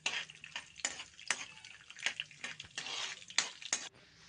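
Chana dal roasting in a pan for curry leaf powder gives a dry, crackling sizzle, with scattered clicky stirring scrapes and taps recurring irregularly at close range.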